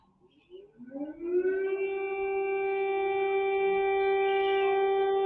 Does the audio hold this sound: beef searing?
no